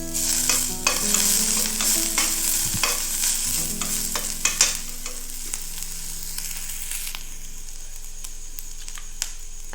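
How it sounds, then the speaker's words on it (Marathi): Grated ginger, garlic and green chili fry and are stirred in a pan for a veg momo filling, with loud, close sizzling and scraping that settles into a softer, quieter hiss after about four seconds. "आणि मी थोडंसं आला लसूण आणि मिरचीचं जे किसून हे केलेलं आहे ना ते टाकून घेणार आहे"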